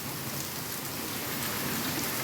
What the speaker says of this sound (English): Today's weather in Florida is rain.